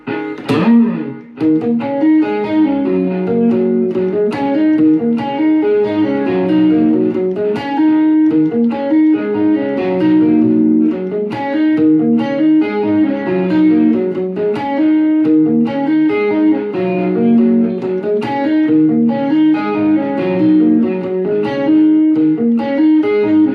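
Electric guitar through effects, with distortion and chorus, plays the opening of a song: a continuous, loud, flowing run of picked chordal phrases heard alone.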